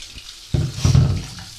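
Running tap water suddenly splashes over peeled giant taro in a sink, a short, close gush that surges and then fades.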